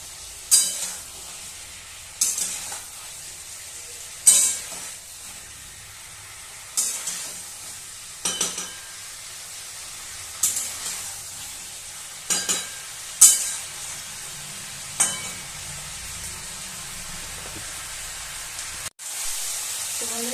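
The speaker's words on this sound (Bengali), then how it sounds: "আরেকবার ভালো করে মিশিয়ে নেওয়ার পর" A spoon stirs koi fish curry in a sizzling pan, giving repeated scraping strokes every couple of seconds over a low, continuous frying hiss, with no voices.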